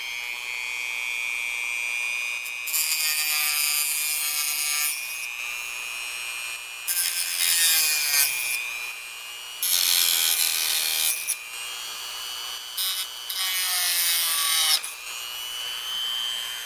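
A power cutting tool on low speed trims a circuit board during an Elekit TU-8888 tube monoblock amplifier build, giving four separate high-pitched grinding, rasping bursts of a few seconds each over a steady whine, close and fairly loud.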